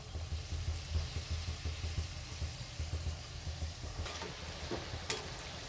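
Cauliflower pakoras sizzle steadily in hot oil, a dense close crackle with a low bubbling rumble throughout and a few sharper ticks near the end; no one speaks.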